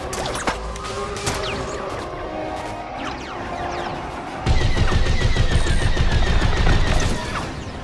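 Starfighter cannons in Star Wars Squadrons, a space-combat video game: scattered laser shots and sweeping whooshes, then a louder, denser stretch of rapid gunfire over a constant engine hum, with no talking.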